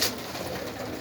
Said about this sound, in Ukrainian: Є там і голубенята